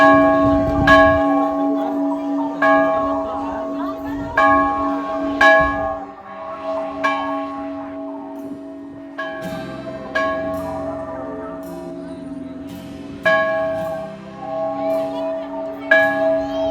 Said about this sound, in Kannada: ಗಂಟೆನಾದ ಜೋರು.